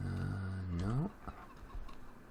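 Chickens cluck in the Farming Simulator 15 game on the Parana map, a loud rising squawk followed by a few softer, scattered clucks nearby.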